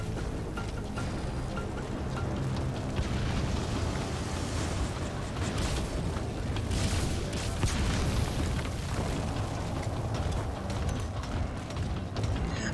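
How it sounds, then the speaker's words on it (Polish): A grenade explosion in the video game Metal Gear Solid V: The Phantom Pain: a dense, rumbling roar fills the whole stretch, a steady blast-like din with crackling debris over low booming, loud and continuous. "to ten granat wybuchł!"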